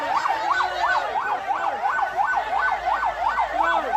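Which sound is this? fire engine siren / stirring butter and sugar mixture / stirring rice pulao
fire engine siren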